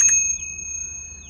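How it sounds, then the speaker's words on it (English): A small bell fitted to a Venom X20 Grom clone motorbike gives one bright ring at the start, then its tone hangs on and slowly fades over a low background rumble. "I installed this little bell"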